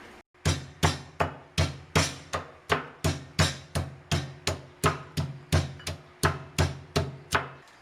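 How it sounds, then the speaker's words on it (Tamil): Ginger and garlic pounded for a chicken roast masala, about twenty steady, evenly spaced thuds that land close and loud at roughly a two-per-second rhythm, with no talk over them. "இனிமேல் நம்ம இஞ்சி பூண்டு மசாலாலாம் இடிச்சிக்கலாம்."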